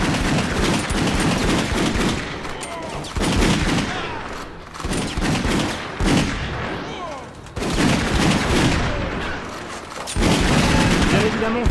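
Rapid gunfire rattles through a John Woo-style shooter game, loud sustained bursts of shots and impacts coming in waves with brief lulls, some voices mixed faintly into the chaos.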